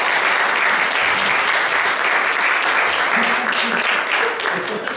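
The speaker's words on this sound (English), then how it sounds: "All this applause is for you." An audience breaks into sustained applause at a holiday-themed talk, a thick wash of clapping with a few faint voices and cheers mixed in, steady throughout and easing a little at the close.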